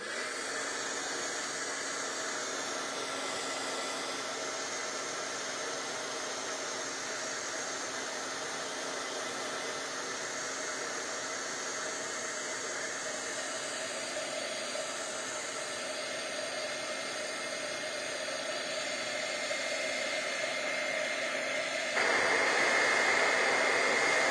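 A handheld heat tool blows hot air over a card for a textured industrial-style papercraft project, giving a steady loud whooshing roar that runs unbroken and grows slightly louder near the end.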